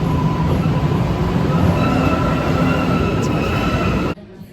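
A train roars past close by in a dense, steady rush of rail noise and faint wheel squeal, continuous for about four seconds before cutting off abruptly into quiet.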